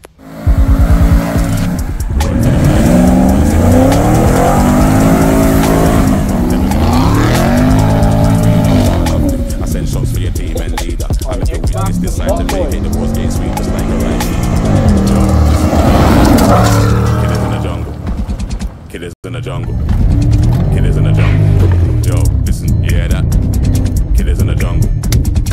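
Porsche V8 four-wheel-drive car driving hard off-road on a forest track, engine loud and close with rising and falling revs, brief tire noise and a short drop near the end.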